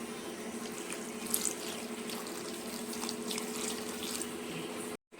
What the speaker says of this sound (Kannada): ಇವಾಗ ನೋಡಿ ಸಿಪ್ಪೆನ ಸ್ವಲ್ಪ ಈ ಥರ ನೀರು ಹಾಕ್ಕೊಂಡು ಗುಂಚ್ಕೊಳ್ಳೋಣ